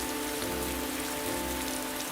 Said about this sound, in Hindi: ये बारिश तो जैसे कहर बनकर टूटी है।